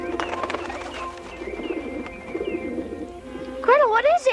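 Soft cooing of pigeons or doves in a storybook forest scene, low and continuous under background music, with a voice speaking near the end.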